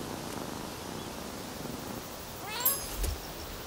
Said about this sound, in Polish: i mamy przy okazji jeszcze kotka